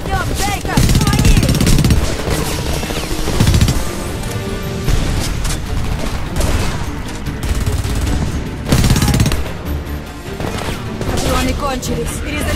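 Sustained gunfire and battle noise from the shooter game Homefront, dense and loud throughout with bursts of shots, impacts and combat clatter, with shouted voices in the mix.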